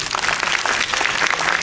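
Dense, loud applause from a press conference audience, many hands clapping at once in a continuous burst with no pauses.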